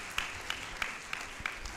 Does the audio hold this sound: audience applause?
yes